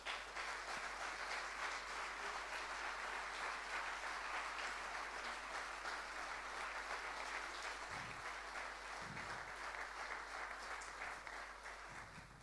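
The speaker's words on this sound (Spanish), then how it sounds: "Dale un aplauso al Señor." A church congregation gives long, steady applause, a continuous crackling roar of many clapping hands that stays even for several seconds and tapers slightly at the end, faint low thumps beneath it.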